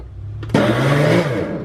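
A blender pulses raw vegan taco filling, kicking on abruptly after a quiet lead-in into a loud, close motor whine that drops slightly in pitch as it labours through the mix.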